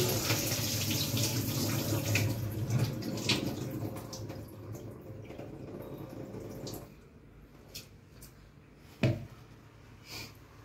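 Water gushes from a tap over soaking rice for masala dosa batter in a home kitchen, a steady close splashing pour that thins and stops partway, leaving a few drips and a sharp knock.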